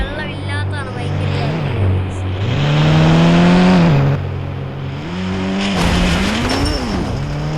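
A car driven in a video game revs and shifts through rising and falling engine tones, loud and close, with a tire squeal and a person talking over it throughout.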